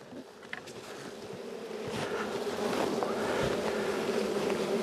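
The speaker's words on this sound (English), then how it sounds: "Smoke these bees down so that when we put our top cover on" Honeybees hum in a dense, continuous drone around an opened hive after being smoked, following a long winter, the buzzing swelling slightly louder over a few seconds, close by, with no talk.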